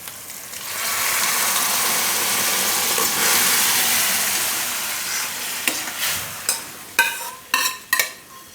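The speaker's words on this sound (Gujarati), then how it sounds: "તો આ દાળને આપણે આમાં રાખી દેવું વઘારમાં." Boiled urad dal poured into a sizzling tempering in a pot gives a loud, steady hiss and sizzle. It eases off, followed by a run of sharp spoon clanks and stirring knocks against the pot.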